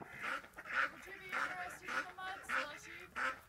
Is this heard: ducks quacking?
yes